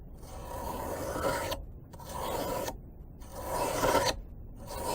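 A knife blade is drawn along a medium sharpener in three long, rasping strokes, each broken by a brief silent pause, loud and close.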